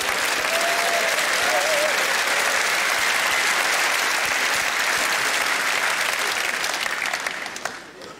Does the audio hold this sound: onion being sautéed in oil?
no